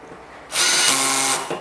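A DeWalt DCF601 cordless clutch screwdriver whirs steadily for about a second while driving a screw, close and loud, then winds down with a short clutch click at the end.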